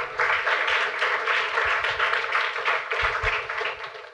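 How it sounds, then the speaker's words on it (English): A crowd at a motivational talk applauds for Meg, a loud, sustained patter of many hands clapping with a few low thumps underneath, easing off at the end. "Let's hear a round of applause for Meg."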